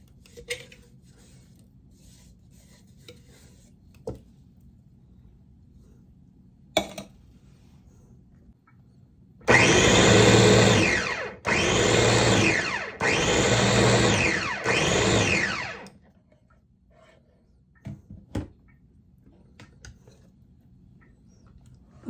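A mixer grinder grinds roasted coconut for crab masala in four loud whirring bursts, each lasting a second or two with short pauses between. Faint kitchen clinks fall before and after the bursts.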